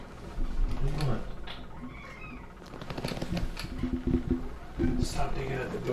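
A cat scratches and digs at a door indoors in a series of close, uneven scraping bursts, with a faint meow or two heard among them.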